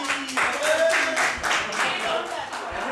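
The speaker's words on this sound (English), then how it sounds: "big round of applause for Harish" A round of applause at a cricket club's season-end party, scattered clapping from a modest group with some chatter and voices mixed through it, moderately loud and steady.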